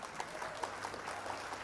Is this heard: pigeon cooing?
no